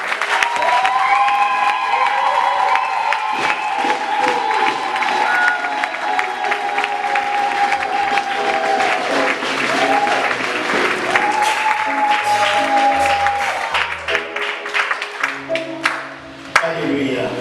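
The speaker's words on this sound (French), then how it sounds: "On acclame le Seigneur." A church congregation at a Pentecost service applauds and cheers steadily, dense clapping with raised voices and shouts throughout, loud and close, easing slightly toward the end.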